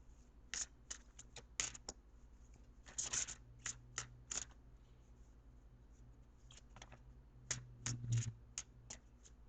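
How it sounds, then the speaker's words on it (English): Angel cards are handled and drawn for a tarot reading, making a run of soft, close flicks, slides and taps in uneven bursts over a quiet room, with no talking. "Now, I am going to pull an angel card."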